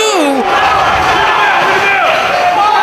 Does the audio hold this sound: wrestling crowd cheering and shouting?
yes